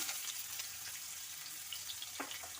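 Chopped onions sizzle steadily in about two tablespoons of hot oil in a pan, a soft, continuous frying crackle with a few faint clinks, and no voices.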